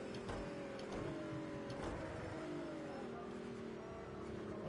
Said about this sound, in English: I did not mean to high rev the engine like that.